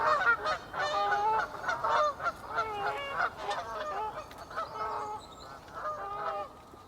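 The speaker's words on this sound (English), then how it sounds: "I'm going to stick my neck out and say that might be a Canada goose." Canada geese honk in a steady run of nasal calls in a country valley, moderately close, several birds overlapping in an irregular rhythm over faint outdoor background noise.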